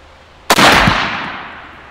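A single sharp M1 rifle shot at outdoor target practice, loud and close, its blast decaying into a long rolling echo with no talking.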